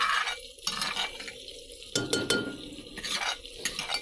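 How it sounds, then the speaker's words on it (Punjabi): Tadka for chana dal sizzling in a pan, with a steady frying hiss broken by a few louder bursts of crackle and some stirring scrapes, close and fairly quiet, with no voices. "ਆਪਾਂ ਲਾਇਆ ਜੀ ਤੜਕਾ"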